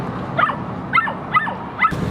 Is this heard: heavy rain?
no